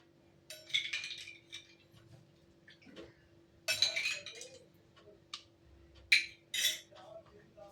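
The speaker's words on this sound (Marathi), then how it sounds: "त्यामध्ये टाकूया बर्फाचे खडे." Ice cubes drop into a glass of mango sherbet, producing several sharp, bright clinks in short bursts separated by quiet pauses, close up.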